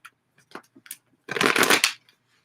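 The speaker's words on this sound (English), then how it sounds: "I'm going to pull some cards because this is real." A deck of cards being shuffled: a few sharp taps and snaps, then a dense riffle lasting about half a second, close and crisp, with no speech.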